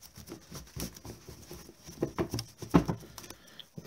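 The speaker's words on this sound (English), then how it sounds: "So we'll shuffle up our library." A deck of Magic: The Gathering cards is shuffled close up, giving a quick run of soft, irregular riffling pats and flutters with no talk.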